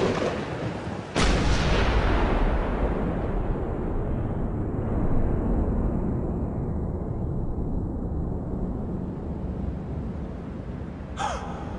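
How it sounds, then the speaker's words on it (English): Gunfire in the video game Max Payne 2, starting with a sharp crack and then a dense, continuous roar of shots and rumbling blasts that fills the scene, ending in another sharp impact. "Gunfire!"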